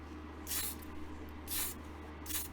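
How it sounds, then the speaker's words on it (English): Tamiya black spray paint hissing onto a model car in three short, light bursts spaced about a second apart, close and soft against a quiet room hum. "Just spray on really lightly for the first coat."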